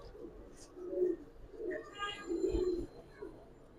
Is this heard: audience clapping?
no